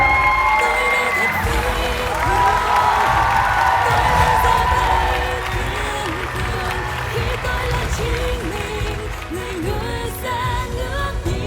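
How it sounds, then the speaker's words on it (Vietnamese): A studio audience at a Vietnamese TV talent show applauds and cheers for a young contestant, loud and dense at first, then easing into steady clapping with scattered whoops while voices carry over it. "Một tràng pháo tay cho Thế Anh."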